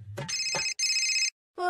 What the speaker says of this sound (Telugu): ఈ జడ్పీటీ సార్ ఎందుకో ఫోన్ చేస్తుండు